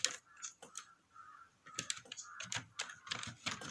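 Computer keyboard keys clatter in quick irregular bursts while code is typed, crisp close clicks with short pauses between runs, no voices.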